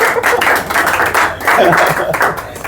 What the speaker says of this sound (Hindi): पहले ताली बजा दीजिए